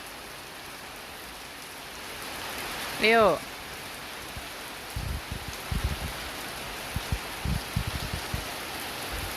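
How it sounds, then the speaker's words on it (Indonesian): Heavy rain falling steadily as a constant hiss, with a child's and an adult's voices speaking briefly over it and a short high call partway through. "Hujan deras, guys."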